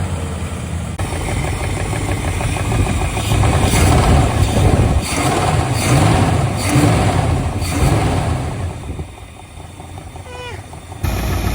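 An old 440 engine in a 1977 Dodge Ramcharger Macho SE cranks, catches and runs roughly, revving up and down with a loud, rattling mechanical clatter.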